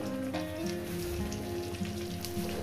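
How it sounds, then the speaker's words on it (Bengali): Eggplant frying in oil in a pan, a steady dense sizzle and crackle that continues without a break, close and moderately loud with a low hum underneath. "এটা আমি 4-5 মিনিট ধরে ভেজে নেব"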